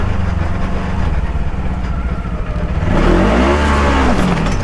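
A truck engine revs hard under throttle, loud and close, its pitch climbing and sweeping upward in the last couple of seconds, with no voices over it.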